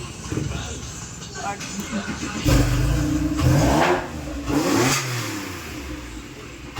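A 2005 Porsche GT3 engine runs on a test run, its revs climbing and falling in a few loud, close surges over a steady idle, with voices in the background.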